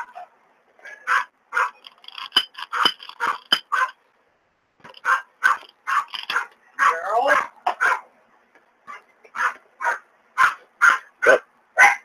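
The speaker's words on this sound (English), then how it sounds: "those dogs aren't going to shut up now" Dogs bark nearby in repeated bursts of sharp barks and yips with short gaps between them, loud and close, with a few whimpers mixed in.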